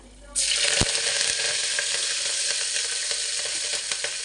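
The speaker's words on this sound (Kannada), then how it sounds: "ಹಸಿಮೆಣಸಿನ್ಕಾಯಿ ಸ್ವಲ್ಪ ಕರಿಬೇವು ಸೊಪ್ಪು ಚೆನ್ನಾಗಿ ಎಣ್ಣೆನಲ್ಲಿ ಫ್ರೈ ಆದಮೇಲೆ" Green chillies and curry leaves drop into hot groundnut oil with a sudden loud sizzle, then settle into a steady, close frying hiss with scattered pops and crackles.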